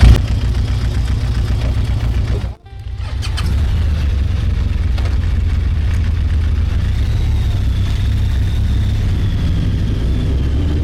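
A restored Laverda motorcycle engine running, with a steady loud idle that briefly cuts out and then resumes a constant rumble, recorded close by outdoors without speech.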